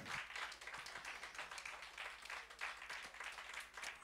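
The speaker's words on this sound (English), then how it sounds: "One more hand clap of praise." A church congregation claps in praise, a dense, steady wash of many hands continuing throughout at a moderate distance, with no voices standing out.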